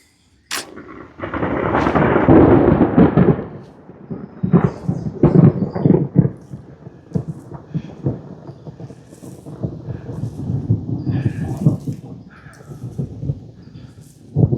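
Thunder from an incoming storm rumbles along a hiking trail in the LaBarque Hills of Don Robinson State Park, with a loud rolling boom early on and repeated cracks and rumbles that fade and return, heard alone without talk.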